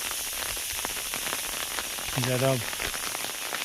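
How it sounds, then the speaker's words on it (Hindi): Steady rain falls outdoors around people heading to lunch under umbrellas, a continuous hiss of drops on surfaces with a short voice and a brief tonal sound rising over it near the end. "अभी भी पूरी तरह से बारिश है"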